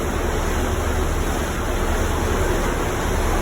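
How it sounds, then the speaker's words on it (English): Water churning and rushing steadily inside a Rhine river lock as the gates open, a dense, continuous wash with no break, fairly loud and close. "The water's moving."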